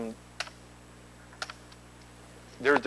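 Keys tapped on a computer keyboard attached to a home-built computer, the Kestrel-2: a few sparse, separate clicks spaced about a second apart, close but quiet over a faint steady hum, with a brief busier burst at the end.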